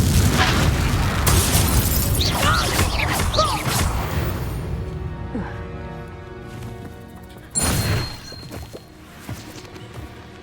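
The Confringo fire spell detonates in the video game Hogwarts Legacy, a loud burst of crashing, booming blasts with debris and a second sharp impact later, while a voice is heard around the action.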